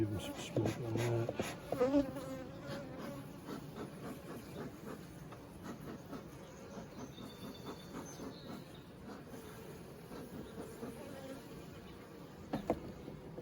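Honeybees from a thriving colony drone in a steady, moderate buzz at a hive being expanded with a second bee box, with a few louder close passes near the start and end and no voices.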